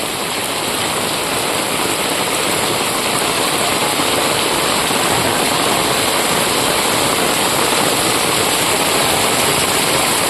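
Floodwater rushing through village streets of Vagaikulam, Tirunelveli, after heavy rain, a loud continuous watery roar and hiss with no pauses, steady and close from start to finish.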